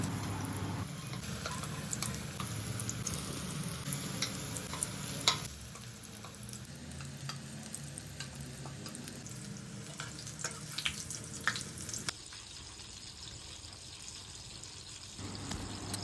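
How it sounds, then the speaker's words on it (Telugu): Chicken pakodi pieces frying in hot oil in a pan, a continuous bubbling sizzle with scattered crackles and stirring clatter that shifts and thins partway through, no voices heard. "ఆయిల్ హీట్ అయ్యాక కలిపి ఉన్న చికెన్ ముక్కలు ఒక్కొక్కటి వేసుకోండి."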